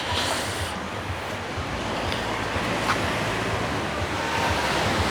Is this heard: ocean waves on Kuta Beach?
yes